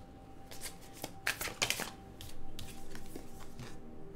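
Crisp riffling bursts of tarot cards being shuffled, several quick flurries with a steady low hum underneath, close by.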